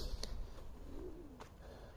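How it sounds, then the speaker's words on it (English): Pigeons coo faintly outdoors, one soft low call drawn out over about half a second amid steady background hiss and a couple of brief sharp clicks. "pigeons"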